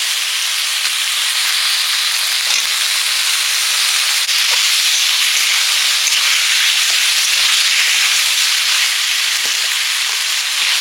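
Taro pieces hit frying onion and spice masala, and a loud, even sizzling hiss carries on without a break the whole time.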